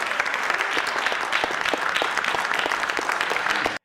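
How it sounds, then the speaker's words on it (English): A crowd at a political event applauds and cheers loudly and continuously, dense clapping with scattered shouts throughout before an abrupt cutoff. "they're cheering for him"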